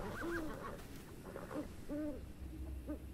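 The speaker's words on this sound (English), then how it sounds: "that's an owl" An owl in a video game hoots several times in short, repeated calls over a steady low background hum, clear and moderately close.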